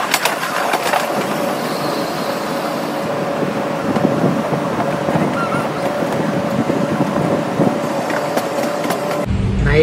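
Inside a moving passenger train travelling from Chennai to Vizag, a continuous rumbling roar fills the carriage, with a steady humming tone running beneath it and a sudden change in the noise at the very end.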